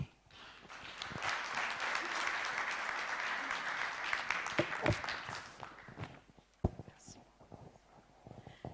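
An audience at the launch of an African livestock disease eradication programme applauds after a minister's speech, with sustained loud clapping that fades after about six seconds into scattered claps and movement.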